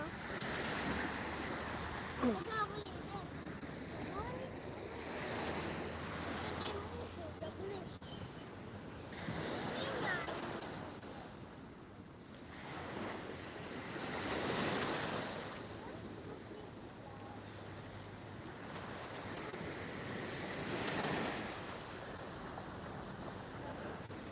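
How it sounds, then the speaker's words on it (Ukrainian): Ocean waves rolling onto a beach, slow recurring swells of surf every few seconds, moderately distant, with faint voices now and then. "Дивіться, хвилі далеко йдуть."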